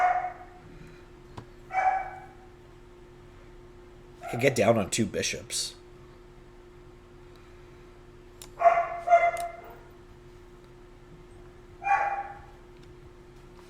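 A dog barks in short separate bursts spread through the clip, moderately near, with someone talking in between.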